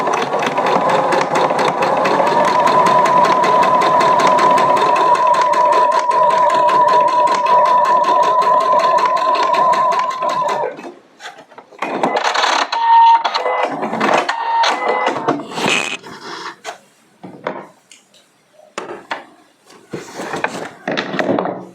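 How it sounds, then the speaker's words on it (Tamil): A sewing machine runs continuously for about ten seconds as it stitches a line on fabric, a loud even mechanical whir, then stops, leaving intermittent handling rustles and softer bursts. "இப்போ செகண்ட் லைன் ஸ்டிச் பண்ணிட்டுருக்கோம்."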